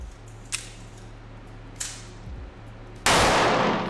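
A metal-frame pistol fires at a shooting range: two lighter sharp reports early on, then one loud, close blast that leaves a long ringing decay over a steady background hum.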